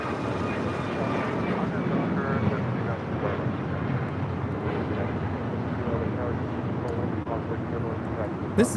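United Airlines Boeing 737 MAX 9 taking off at LAX, a steady broadband jet roar that holds loud and even throughout, with voices talking over it.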